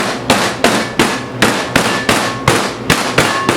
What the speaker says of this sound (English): I'm just going to hammer down this to crumbles